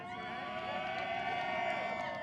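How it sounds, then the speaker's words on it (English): A crowd at the Toyo Tires Desert Challenge desert race awards ceremony cheers loudly and continuously, a dense mass of voices and whoops with no break. "who comes in 13th place and then here's a cheer like that?"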